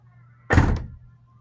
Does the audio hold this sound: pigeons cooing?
no